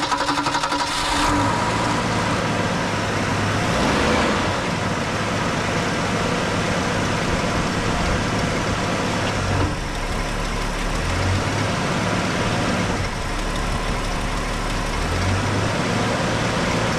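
A 1978 Mercury car engine idling at a raised speed, a continuous low rumbling drone held steady and close, with slight shifts in tone.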